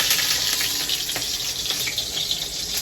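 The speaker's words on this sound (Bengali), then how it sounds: "এখানে এখন আমি 5 রকম ভাজা করছি" Eggplant, bitter gourd, okra and pointed gourd fry together in a home kitchen, part of five kinds of fried vegetables cooked for a birthday meal. A steady, dense sizzle with crackling holds at an even level throughout, with no voices.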